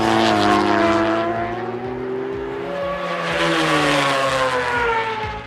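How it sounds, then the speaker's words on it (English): A BMW boxer motorcycle engine revs hard and high, its rising and falling tone droning loudly as it pulls through the gears close by. "the sound at high revs turned into a true melody for fans of Boxer BMW engines"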